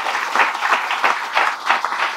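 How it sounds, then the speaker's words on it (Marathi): An audience at a Guru Purnima satsang gathering claps in loud, steady applause, dense and close, rising in several swells. "पटत असेल तर अजून एकदा जोरात टाळ्या व्हायला पाहिजे."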